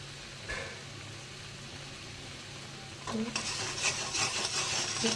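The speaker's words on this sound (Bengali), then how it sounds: "মিক্সড করে দিলাম। এবার এটাকে আমি কষাবো।" Mushroom masala being stirred and fried in a pan with spices, a steady low sizzle that grows louder and brighter in the second half as stirring scrapes through the mixture.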